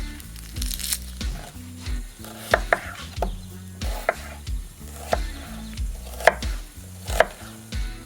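Fresh bacon frying in a pan alongside onions for a sweet potato gratin, a steady sizzle broken by repeated scraping and stirring knocks of a utensil against the pan.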